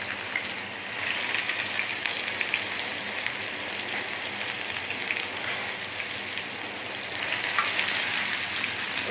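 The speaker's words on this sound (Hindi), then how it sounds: "इसको अच्छी तरह फ्राई करते हैं।" Chicken pieces fry in oil with garlic and ginger paste on a hot tawa, giving a steady, close, crackling sizzle throughout with no talking.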